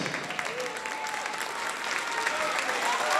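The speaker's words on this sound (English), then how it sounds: "Let's give these four Kahawks a big round of applause" A gym crowd at a high school basketball game applauds steadily for Hall of Fame inductees, dense clapping building slightly louder with a few voices mixed in.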